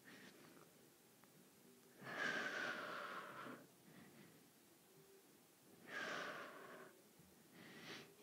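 Slow breaths taken while holding a shoulder stand exercise, two long airy exhales a few seconds apart and a shorter third, close and soft with quiet pauses between.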